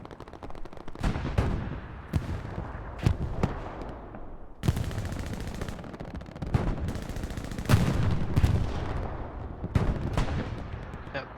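Artillery strike in a World War II-style multiplayer video game tournament match, with repeated sharp booming impacts and gunfire bursts spread across the clip, loud and overlapping, with radio-style talk in the background.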